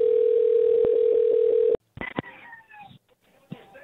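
A telephone dial tone hums steadily for nearly two seconds after a call is hung up, then cuts off abruptly, followed by brief clicks and a faint cat meow.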